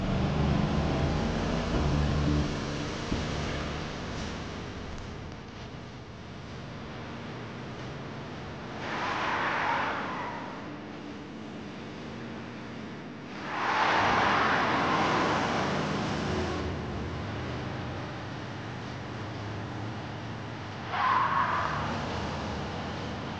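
A support vehicle in a French-dubbed animated series starting up and driving away, a steady engine rumble with several swelling surges and faint tire squeals.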